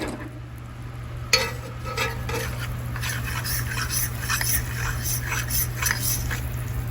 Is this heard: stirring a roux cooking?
yes